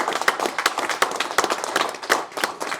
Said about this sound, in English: I want everybody to give them a round of applause again.